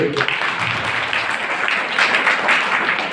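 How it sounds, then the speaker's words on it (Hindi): Steady applause from a church congregation at a Sunday meeting, a dense wash of many hands clapping throughout. "इसलिए हम ताली बजाएंगे"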